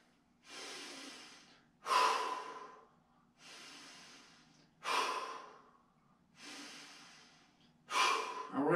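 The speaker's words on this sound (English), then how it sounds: "Now listen to the breathing. The breathing should be purposeful breathing." Deliberate, forceful breathing during a dryland strength workout: six strong breaths alternating between longer inhales and sharper exhales in a steady rhythm, close and clear with no talking.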